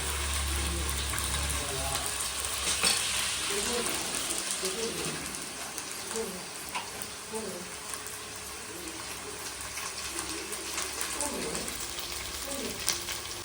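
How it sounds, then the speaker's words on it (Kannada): Chicken curry ingredients frying in oil in a home kitchen, a steady broadband sizzle running throughout with occasional stirring clatter and faint voices in the background. "ಎಣ್ಣೆಯಲ್ಲಿ ನೀಟಾಗಿ ಫ್ರೈ ಆದರೆ, ಜಾಸ್ತಿ ಟೈಮ್ ಫ್ರೈ ಆದರೆ ಟೇಸ್ಟ್ ಕೂಡ ಚೆನ್ನಾಗಿರ್ತದೆ"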